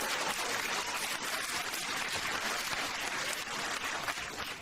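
A comedy club audience claps during a stand-up set, dense, steady applause throughout.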